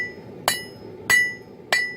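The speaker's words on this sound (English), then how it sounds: "Just a little bit of light hammer work." A blacksmith's hand hammer strikes a Damascus steel billet three times in even, unhurried blows about half a second apart, evening it up after heavy drawing out on a power hammer. Each ringing metallic hit is loud and close, with no talking.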